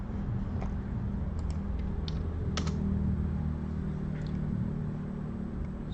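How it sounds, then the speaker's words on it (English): Typing on a computer keyboard: scattered light key clicks tapped at an uneven pace over a steady low hum, with no talking. "Like I'm typing it here."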